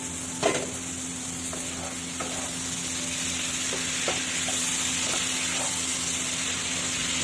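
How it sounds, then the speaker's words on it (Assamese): Tomato stirred into vegetables frying in a pan, a steady soft sizzle with occasional utensil scrapes and taps, close and alone without talk. "বিলাহীটো দি দিওঁ মই লাৰি দিওঁ"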